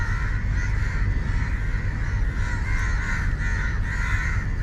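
A caught bird calls with harsh, crow-like caws repeated over a steady, dense outdoor noise background; no one speaks.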